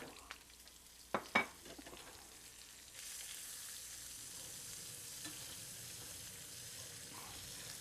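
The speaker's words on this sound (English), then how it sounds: "we're going to toss our onions in there." Onions hit hot grease in a pan and fry with a faint, steady sizzle after a couple of sharp clatters, the hiss rising and holding quietly.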